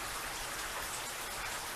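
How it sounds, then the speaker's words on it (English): Cold outdoor rain falls steadily, a continuous hissing patter with no gaps and no voices over it. "it's cold and it's raining"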